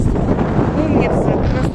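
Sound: strong wind on a bridge by the sea

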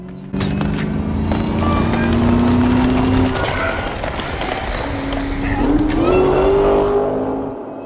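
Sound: Shelby Mustang car racing in a movie scene

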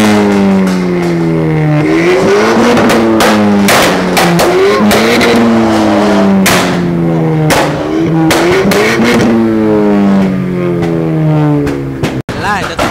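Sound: Volkswagen Beetle with straight-through exhaust revving

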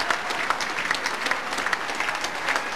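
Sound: football crowd applauding as teams leave the pitch

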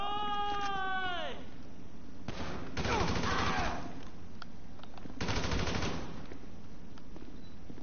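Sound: gunfire from a machine gun in GTA V video game

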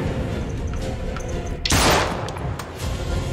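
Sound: gunfire in the video game Little Hope

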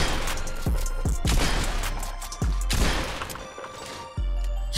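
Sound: pump shotgun firing in Fortnite video game

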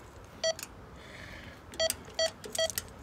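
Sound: intercom keypad beeps while entering a door code

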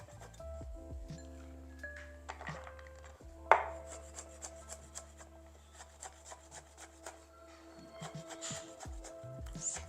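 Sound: slicing peeled soaked almonds into thin pieces

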